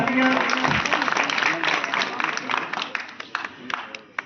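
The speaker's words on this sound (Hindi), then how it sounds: "एक बार जोरदार उनके लिए भी तालियां" Applause from a gathering at a Gram Panchayat Shahnagar ceremony honouring the families of freedom fighters, a burst of clapping that starts strong and thins out into scattered claps with some voices mixed in.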